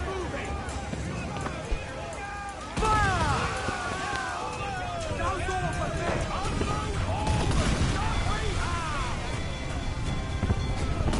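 Gunfire from enemies in Assassin's Creed Black Flag, heard as a sudden burst of shots and clamor with shouting voices over game music and effects.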